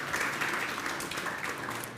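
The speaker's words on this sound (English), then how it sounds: "And applause for Thorold." An audience applauds at the 2022 State of the Region address, a dense, steady patter of many hands clapping throughout the short stretch with no voices over it.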